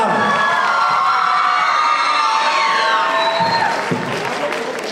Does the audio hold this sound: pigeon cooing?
no